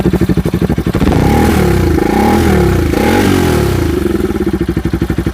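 A Bajaj Pulsar 200 RS motorcycle with an aftermarket exhaust revs up hard, a loud raspy roar swelling and falling back, with a throaty, popping exhaust note at idle on either side.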